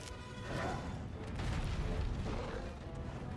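A deep, rumbling explosion from a monster turf war in the video game Monster Hunter World, with heavy low-end booming that swells and sustains over a dense, noisy game soundscape.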